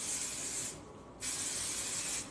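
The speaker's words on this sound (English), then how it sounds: "I like to add a lot of hairspray to my hair" Hairspray hisses from an aerosol can onto hair in two close, loud bursts separated by a short pause, with no speech.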